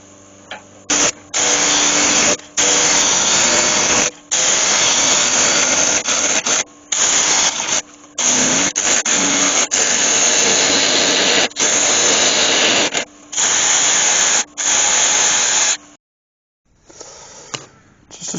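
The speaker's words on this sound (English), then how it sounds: "I can carry on taking the corners off on this, and I'll turn the speed up a bit as well" A wood lathe spins a wood blank at higher speed while the corners are taken off, producing a loud, steady whirring hum broken by repeated short gaps, and the tool cuts out near the end.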